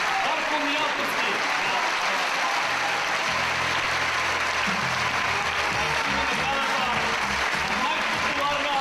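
Sustained applause from a television studio audience at a 2006 children's show, steady and dense throughout, with faint voices mixed into the clapping.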